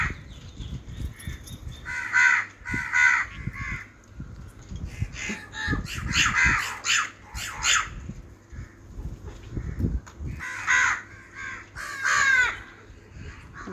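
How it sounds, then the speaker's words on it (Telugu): Crows caw repeatedly as they fly in to eat food thrown out near a temple under construction, harsh calls coming in clustered bursts, some close and loud, over light background noise. "కాకులు చూసారా, వేస్తుంటే ఎట్లా వచ్చి తినిపోతున్నాయి, ఎంత ఆకలి మీద ఉన్నాయో"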